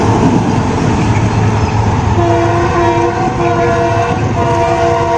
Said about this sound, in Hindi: आज धुंध है मगर रेल एक्शन पूरी आबोताब से जारी है